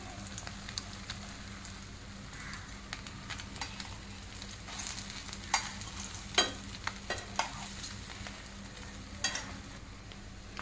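Butter masala eggs frying in a pan give a faint, steady crackling sizzle, with occasional sharper pops and light scrapes of a spatula turning them, quiet and close, no voices.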